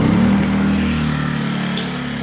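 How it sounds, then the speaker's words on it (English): An HJS inverter generator, already primed, runs in a closed garage with a steady low engine drone that settles after starting, fairly loud and close with no talk. "So all I'm gonna do is pull it here and start it up and let you hear it run."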